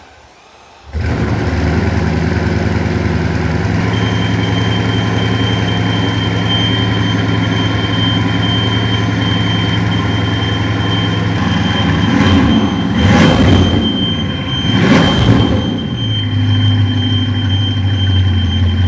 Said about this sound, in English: Revving a Bugatti.